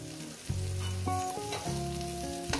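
Eggs and pumpkin flowers fry in a pan on a gas stove over medium heat, giving a steady, close sizzle with background music playing.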